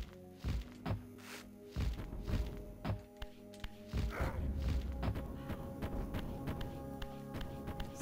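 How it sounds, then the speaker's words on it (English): Heavy, thudding footsteps of the boss Dumah in Dumah's Castle in the video game Legacy of Kain: Soul Reaver sound as a slow, booming series of thumps, then a denser rumbling stretch of pounding. "as long as I hear his footsteps, he's behind me"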